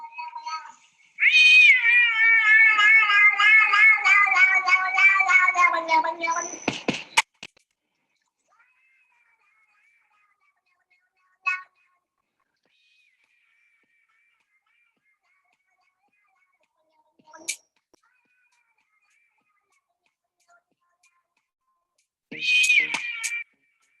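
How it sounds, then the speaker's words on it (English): A cat sings in a played video clip, a loud, continuous melodic meowing tune lasting several seconds that then cuts off, followed by a few faint, brief sounds and a short burst near the end. "when our kids watch first the cat singing, they might believe that it's real."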